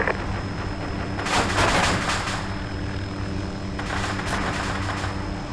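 Distant enemy gunfire in the Arma 2 military shooter crackles in two bursts, the first around the middle and a second shorter burst later, over a steady engine-like hum with no talk.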